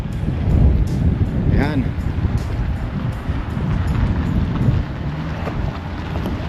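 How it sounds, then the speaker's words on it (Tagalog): Strong wind in Edmonton, Alberta, Canada roars and buffets the microphone throughout in a steady low rumble, with a short spoken word near the start. "medyo malakas ang hangin pa rin"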